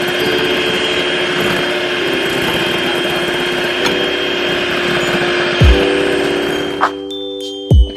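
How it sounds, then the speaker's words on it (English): Egg whites, lemon and sugar being whisked for Christmas cookie icing: a steady, loud, close mechanical whir that runs continuously, then cuts out briefly twice near the end. "So I'm going to whisk this now for about 5 minutes until I get a peak."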